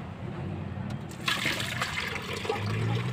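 Rusty, yellowed coolant water drains from the radiator of a Tata Ace mini truck, pouring and splashing steadily and fairly softly, growing a little louder partway through.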